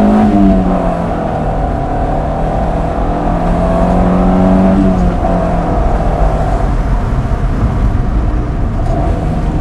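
A Honda Civic Del Sol's VTEC engine revs up and down several times close by, its rising and falling tone loud and continuous over a steady mechanical drone, with no talking.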